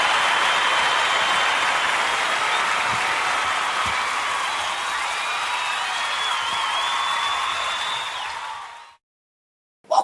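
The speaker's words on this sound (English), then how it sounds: "Great round of applause that is." A studio audience at a live comedy talk show gives a loud, sustained round of applause, dense clapping and some cheering that holds steady for about nine seconds before cutting off abruptly into silence.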